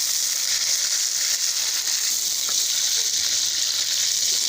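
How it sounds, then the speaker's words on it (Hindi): Green moong dal with spices frying in a hot pan, giving a steady, close sizzle that continues evenly without any talk. "इसको हम 1 मिनट के लिए खूब अच्छे से फ्राई करेंगे"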